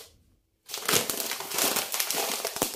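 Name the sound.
plastic garbage bag crinkling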